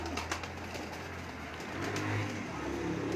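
A pair of old Teddy pigeons cooing nearby, soft repeated low coos over a faint background hum, with no talking.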